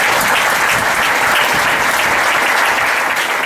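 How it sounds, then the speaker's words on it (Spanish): A church congregation claps together in loud, sustained applause during a sermon, with a dense, continuous patter of hands and no talking over it. "Den un aplauso al Señor."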